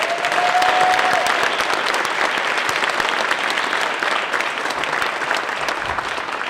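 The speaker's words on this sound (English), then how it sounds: "give them a round of applause." A graduation ceremony audience gives a long, dense, continuous round of applause, loud and steady from many hands, with no talk over it.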